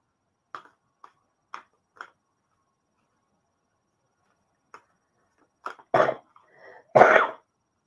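A few faint clicks, then a person coughs several times, the last coughs louder and harsher, close by.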